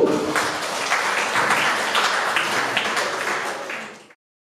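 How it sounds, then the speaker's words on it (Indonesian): Workshop participants give a round of applause, fairly close clapping from a modest group that keeps going and then tapers off abruptly. "Beri tepuk tangan untuk Bapak Ibu"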